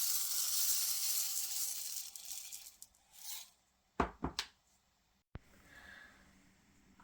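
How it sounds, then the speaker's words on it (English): Dry rice grains poured through a funnel into a glass jug that holds an upside-down small fabric gonk, giving a soft hissing, rattling pour that fades, then a few sharp clinks and short bursts close by. "now I'm going to fill with rice"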